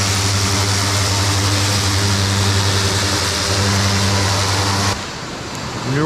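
A pressure washer fitted with a rotary tip sprays a car, giving a loud, steady, close-up hiss over a droning pump motor hum. Near the end the spray cuts out and a quieter rumble is left; no one speaks.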